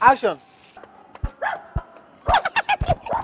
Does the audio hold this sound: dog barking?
yes